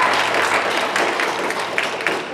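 A convention panel audience at Bronycon 2015 gives a round of applause in a seminar room, a loud, even wash of clapping that holds steady with a couple of sharper claps near the end.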